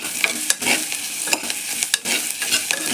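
Ginger, garlic and onions sauté in a pan for cauliflower gravy, giving a steady broadband sizzle with several scraping stirs of a spoon mixed in, close and continuous with no talk.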